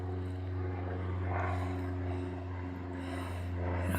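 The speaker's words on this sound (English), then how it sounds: "Planes flying overhead." Propeller airplane flying overhead along a constant flight path above a house, a steady low droning hum with strong harmonic tones holding evenly and swelling slightly toward the end, no talking.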